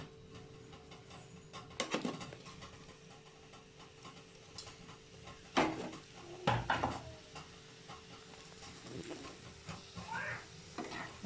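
A spatula stirs ivy gourd stir-fry in a pan, with intermittent scraping and clinking strokes over a soft background sizzle, moderately close and fairly quiet.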